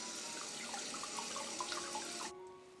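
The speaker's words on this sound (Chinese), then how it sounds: "先把这个鸡呢给它清洗一下。" Tap water runs steadily into a sink while a whole free-range chicken is rinsed beneath it, with small splashes and trickles throughout before the flow cuts off abruptly near the end.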